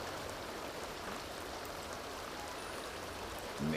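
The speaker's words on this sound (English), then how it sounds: "It is raining now." Steady rain falling in The Sims 2, a soft, even hiss of drops that holds unchanged from start to finish at a fairly quiet level, with no voices over it.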